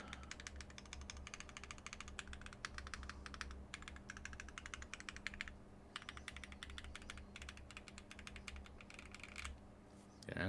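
Clacking keystrokes on a custom mechanical keyboard fitted with anthracite keycaps, typed in steady bursts with a couple of brief pauses, close and crisp over a low background hum.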